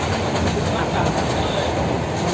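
A train runs steadily along the rails, a loud, dense rumble with faint rhythmic clatter from the wheels and no letup.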